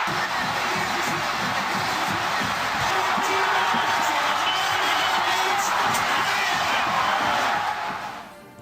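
A football stadium crowd of over 58,000 fans roars and cheers after the final play of a night game, a dense, sustained wall of noise that holds steady and fades at the very end.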